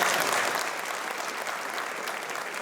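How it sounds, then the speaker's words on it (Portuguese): Dense, steady applause from family and friends gathered at the wake of a former city councillor in Cinelândia, Rio de Janeiro, sustained and even throughout. "homenageado com aplausos"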